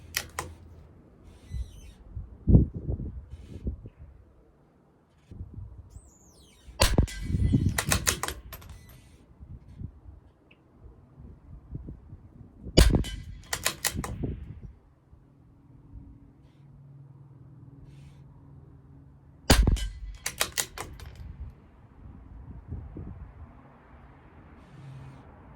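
A CZ457 LRP rimfire rifle fires Eley subsonic hollow point rounds at a 50-yard range, several sharp, fairly muted cracks spaced seconds apart with quiet gaps between them.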